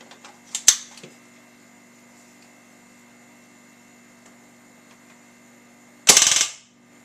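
A KWA KM16 airsoft rifle fires full auto at about 22 rounds a second: a brief sharp report early, then after a quiet stretch with faint hum, a loud rapid half-second burst up close.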